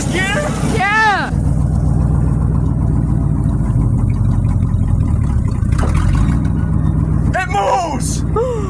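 A 1966 Ford F100 Camper Special truck engine running steadily with the choke open, a loud continuous rumble close by, with voices talking over it and a few sharp squeaks near the start and end.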